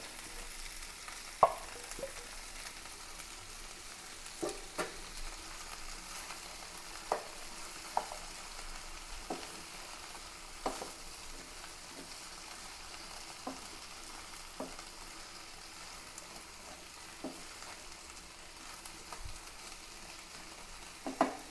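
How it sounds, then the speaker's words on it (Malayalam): Chopped onion fries in coconut oil with a faint, steady crackling sizzle, dotted with soft ticks and occasional spoon taps over a long quiet stretch. "വെളിച്ചെണ്ണ ഒഴിച്ചു കൊടുക്കാം ഉള്ളി കട്ട് ചെയ്തതാണ് ഇട്ട് കൊടുക്കാം"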